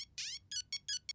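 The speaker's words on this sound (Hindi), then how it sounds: "मेरा ही फोन बज रहा है।" A phone ringtone plays as a short run of bright, chirping electronic tones, one longer rising note followed by four quick repeated bursts, faint and alone.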